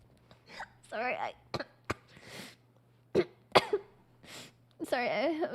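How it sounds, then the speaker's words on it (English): Several short, sharp coughs come in bursts with pauses between them, close and fairly loud, mixed with throat sounds and a person speaking over a low steady hum. "No, I was just coughing."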